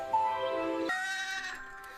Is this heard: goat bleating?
yes